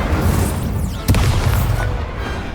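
An Incendio fire spell bursts in the Hogwarts Legacy video game, a single sharp boom cutting through rumbling game ambience, loud and close before fading under the ongoing action.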